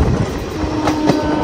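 A coal-laden goods train rolls past near an open-cast mining site, a steady rumbling wash of wagons with faint clatter and a couple of brief sharper rattles, continuous and fairly close.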